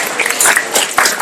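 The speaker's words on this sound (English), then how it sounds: "Let's give Future Cities a big round of applause" Outdoor welcoming-ceremony crowd claps briefly, a short burst of mixed hand claps lasting just over a second.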